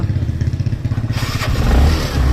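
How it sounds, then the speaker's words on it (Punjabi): Motorcycle engine started with the self-starter after the key is turned on: a rhythmic cranking chug, then the engine catches and settles into a loud, close idle. "ਆਪਾਂ ਕਰ ਲਿਆ ਬਾਈਕ ਚਾਬੀ ਔਨ ਤੇ ਆਪਾਂ ਦਾ ਪਤਾ ਸੈਲਫ"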